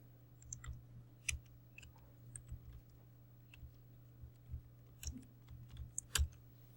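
Keystrokes on a computer keyboard while typing a software search query: scattered, irregular clicks and taps, close and fairly quiet over a steady low hum, with no talking.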